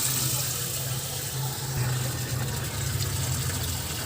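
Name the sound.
water being poured into cooking pot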